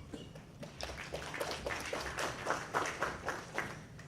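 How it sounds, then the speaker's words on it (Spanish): Applause from the audience at a public policy panel discussion, greeting a speaker from Telefónica Movistar. The clapping is sparse and uneven, with scattered individual claps rather than a dense ovation, and it holds steady at a moderate level for about four seconds. "también la recibimos con fuertes aplausos"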